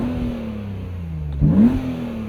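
BMW Z3 M Roadster with the S52 engine and Dynon pipes, revving once with a throaty throb that rises in pitch, close and loud over a steady idle.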